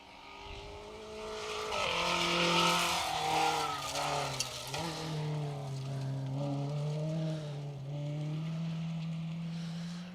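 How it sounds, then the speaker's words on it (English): A small Ford Fiesta rally car drives a stage of a Welsh rally championship event, its engine loud and droning with rising and falling revs as it passes, continuous and fairly close, with no talk. "Matthew Badley in Jig, the little Fiesta."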